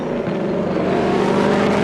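A 2021 Ford Mustang Mach-E electric car drives fast, giving a steady, loud whirring hum of motor and road noise that holds at an even level.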